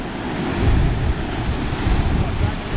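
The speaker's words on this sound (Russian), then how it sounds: "Я хочу отсюда волны поснимать" Stormy sea waves crash and roar against the Crimean shore, a loud, continuous surf with rolling surges, mixed with gusting wind buffeting the microphone.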